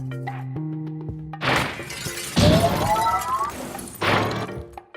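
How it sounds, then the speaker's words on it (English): Glass shatters in the video game Quantum Conundrum, several loud crashing bursts with tinkling debris, separated by brief pauses over faint game tones. "the breaking of this glass is a necessary evil"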